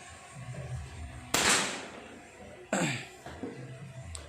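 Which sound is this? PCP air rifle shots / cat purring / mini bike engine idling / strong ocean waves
PCP air rifle shots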